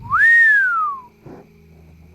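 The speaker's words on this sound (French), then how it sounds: "Vas-y, siffle." A single rising-then-falling human whistle, loud and close, sliding smoothly down in pitch over about a second, followed by faint rustling and movement noises with no talking.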